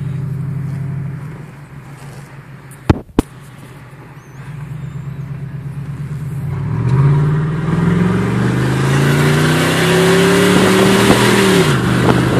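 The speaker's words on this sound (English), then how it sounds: "wide open throttle in the cab just so you can get an idea" Inside the cab of a Ford F150 with a 5.4 V8 and a dumped exhaust with no muffler, the engine idles roughly, a sharp clunk sounds, then it revs hard at wide open throttle in a loud, rising, raspy roar.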